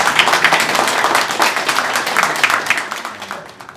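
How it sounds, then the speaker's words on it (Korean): A crowd at a year-end alumni evening for a Korean open university's law association gives a loud, dense round of applause with brisk overlapping claps that tapers off near the end. "우리 방송대 로스쿨을 위해서 애쓰시고 노력을 많이 해주신 학과장님께 한번 박수, 큰 박수 부탁드리겠습니다"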